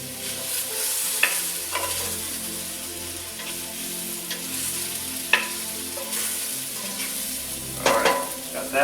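Beef browning in a pan for shepherd's pie, giving off a steady close sizzle broken by a few sharp scrapes and clicks of a utensil stirring, with no talking.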